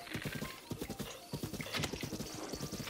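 Steady rhythmic hoofbeats of a galloping horse in The Legend of Zelda: Breath of the Wild pound continuously and close by. A brief whinny rises partway through over the game's background ambience.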